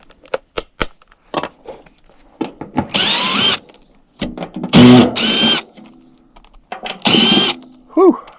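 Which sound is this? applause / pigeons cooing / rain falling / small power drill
small power drill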